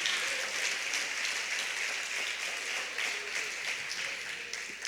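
A church congregation applauds during a sermon, a steady, faint wash of many hands clapping at a distance with no voices over it.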